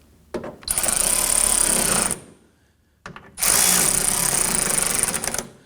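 A lightweight power tool snugs down the rear mud flap screws on a 2016-2023 Toyota Tacoma, whirring in two close, loud bursts. A short whine comes first, then a longer run, with a brief pause between them.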